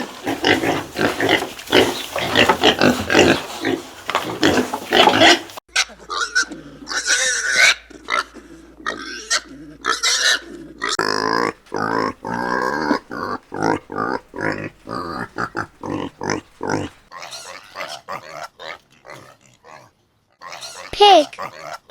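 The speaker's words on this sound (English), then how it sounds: "Pig." A pig grunts and oinks in quick, repeated bursts, fairly close and loud, with short pauses between the grunts.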